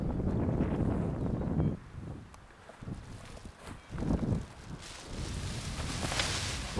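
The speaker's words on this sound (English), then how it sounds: "Attempted spot landing into a north wind that's picking up." A north wind picks up during a spot landing, heard as gusty, rumbling wind buffeting the microphone, rising and falling in uneven bursts.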